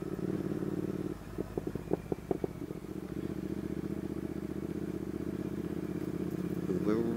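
Triumph and BMW motorcycles riding together on a road, a steady engine drone with a burst of revving pulses early on, and someone talking over the engine throughout.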